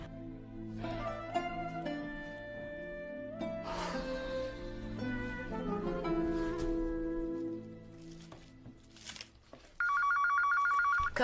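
A telephone bell rings loudly in an indoor domestic scene, its rapid trilling pulses sounding alone near the end after a stretch of soft background music.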